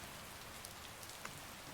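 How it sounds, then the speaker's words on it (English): Rain patters steadily and softly in a video game, with a few sharper droplet ticks over the constant wash and no voices. "It's raining? Damn."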